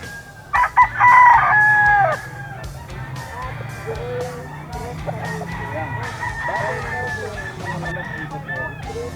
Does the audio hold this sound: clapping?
no